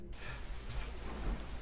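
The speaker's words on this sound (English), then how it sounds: "The rain just started, but my pants already wet." Rain begins in a video game, a steady even hiss of falling drops with a low rumbling undertone, moderately loud and unbroken throughout.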